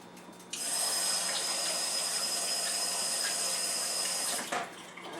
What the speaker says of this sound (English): Rinse off my hands a little bit.